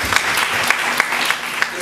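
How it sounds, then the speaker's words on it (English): Church congregation clapping in praise during a sermon, a steady wash of many hands with a few sharper claps standing out, fairly close and sustained through the short moment. "Let's give the Lord a clap of praise."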